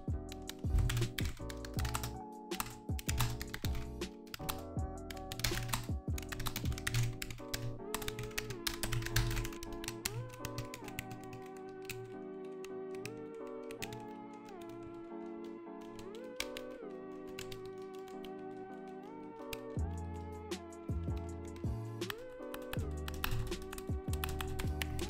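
Steady typing on a Logitech G915 wireless mechanical keyboard, quick clacking keystrokes in continuous bursts, fairly close, with a low hum underneath and no talking.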